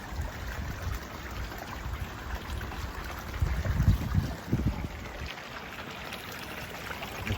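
Water runs steadily from a small waterfall into a wildlife aquascape pond, a constant splashing rush that swells briefly louder midway, fairly close with no voices.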